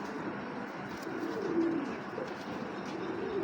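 A young female racing pigeon gives a soft throaty coo, close and fairly quiet, over a faint background hum.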